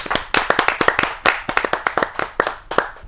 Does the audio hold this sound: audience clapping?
yes